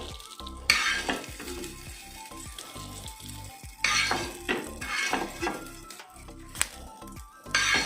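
Hot tadka tempering poured into a pan of okra salad, bursting into a loud crackling sizzle with clinks of a spoon and pan, the spitting flaring up again in a few sharp surges.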